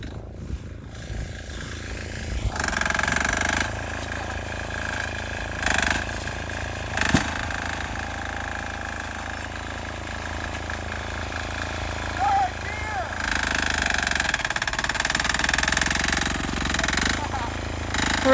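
A Sears Suburban diesel garden tractor labors while pushing heavy blizzard snow, its engine a loud, steady drone with surges and strained dips, and people talking over it.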